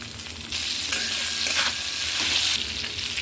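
Onion and tomato frying in a pan, a dense close sizzle that swells louder after the first half second and stays steady, with brief surges as pieces shift.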